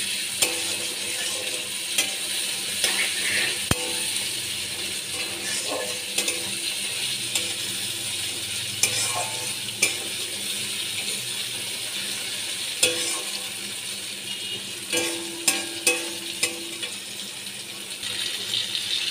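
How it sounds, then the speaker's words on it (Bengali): Tomatoes sauté in a pan for egg curry, with a steady sizzle under repeated spatula scrapes and sharp clicks against the pan, heard close and fairly loud. "টমেটো দিয়েও আমি ভালো করে কষিয়ে নিচ্ছি"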